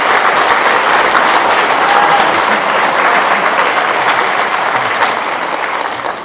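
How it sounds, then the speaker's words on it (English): A loud, dense roar of audience applause fills a school awards night after a sixth-grade band performance, sustained evenly by many hands and only easing slightly near the end. "can we give them a round of applause for their performance tonight?"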